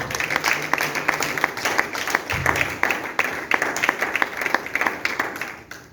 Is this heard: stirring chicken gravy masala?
no